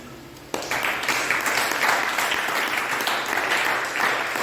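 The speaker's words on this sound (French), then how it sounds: "Et nous pouvons l'applaudir." A church congregation breaks into sudden applause, a loud, steady wash of clapping that starts abruptly and carries on to the end.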